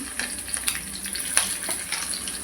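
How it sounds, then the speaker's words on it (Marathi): Chopped garlic and green chilli fry in hot oil with a steady, close sizzle broken by small pops and crackles, with no talking over it. "त्यामध्ये घालते मी चॉप केलेली लसूण मिरची"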